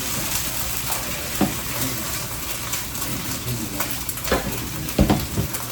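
A steak and egg scramble sizzles in a pan as it is stirred, a dense, loud frying hiss broken by a few sharp scrapes and clinks of the utensil.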